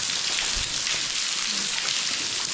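Water rushes inside a cave, a dense, steady hiss like heavy rain that carries on without pause for the whole span.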